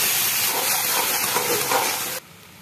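Milk poured into hot roasted semolina (rava) in a pan for a sweet offering, producing a loud, close, continuous steamy sizzle and hiss that cuts off abruptly near the end.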